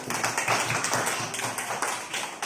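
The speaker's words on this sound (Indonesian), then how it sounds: "Tepuk tangan untuk Najwa." Children in a primary school classroom clap together for a classmate, a dense, steady patter of many small hands close by that carries on through the whole moment without speech.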